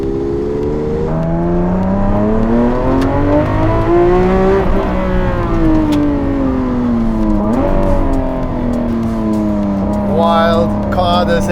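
A Novitec-tuned Ferrari 812 or Lamborghini Aventador SVJ V12 in a desert revs loud and close, pitch climbing through gears with a drop at each shift, a talking voice faintly under the engine.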